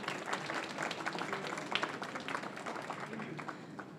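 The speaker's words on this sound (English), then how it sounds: "I think he deserves a round of applause" An audience at a book launch event applauds a young songwriter, a steady patter of many hands clapping for several seconds with faint voices mixed in.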